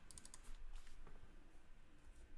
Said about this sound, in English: Want to make sure you weren't hearing my clicking and typing.